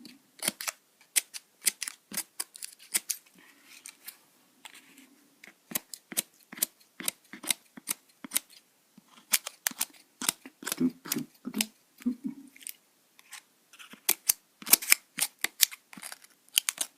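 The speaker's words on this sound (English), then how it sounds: "I'll use some real scissors here, and I cut it along." Real scissors snip through cardboard while a homemade dinosaur model is trimmed: a long series of sharp, crisp clicks, sometimes in quick bursts and sometimes spaced apart, close to the listener, with faint handling sounds between cuts.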